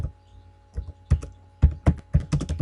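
Typing on a computer keyboard, close and clear, with a quick irregular series of key clicks and clacks in small clusters over a couple of seconds.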